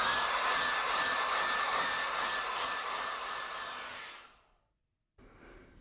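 Steady whooshing blast of a hair dryer drying watercolor sky paint, loud and continuous before cutting off abruptly, then a faint brief restart of noise.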